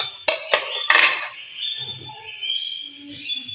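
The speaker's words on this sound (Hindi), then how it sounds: "इसको मिक्स कर देंगे।" Cabbage being tossed into a Russian salad in a bowl: a few sharp, close utensil clinks in the first second, then softer, quieter scraping and rustling for the rest.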